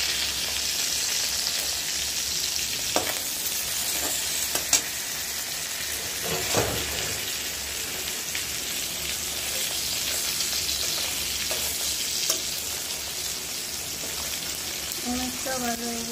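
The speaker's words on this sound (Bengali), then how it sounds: "একবারে হালকা ভাজছি দেখে মনে হয় না যে মাছটা ভাজছে" Hilsa fish frying lightly in a pan gives a continuous, even sizzle and crackle throughout, with occasional small pops and clicks close by.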